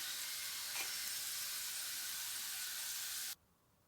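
Cheese and potato paratha frying in oil on a pan gives off a steady, close sizzle and hiss that holds evenly, then cuts off abruptly near the end.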